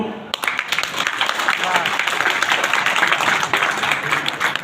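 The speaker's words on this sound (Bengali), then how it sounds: "আপনাদের জন্য একটা করতালি হোক" Audience applause at a business programme in Ajman, a sudden burst of dense clapping that starts after a brief pause and stays loud and sustained throughout.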